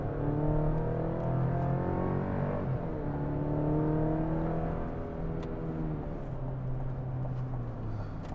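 Heard from inside the cab, a Chevrolet Colorado pickup truck engine accelerates with a smooth, continuous hum that rises in pitch, drops at a couple of gear changes, and climbs again. Steady and close, no talking.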